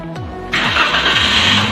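A car engine cranks briefly and then catches, settling into a steady, loud running idle during a workshop exhaust emissions test.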